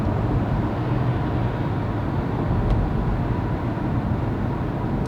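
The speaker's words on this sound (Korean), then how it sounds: "요 뒤에서 바람 소리가 들어오네요" Constant low wind roar and road rumble heard from inside a moving used Renault Samsung SM5 car, wind leaking in from the rear, even and unbroken throughout with no one speaking.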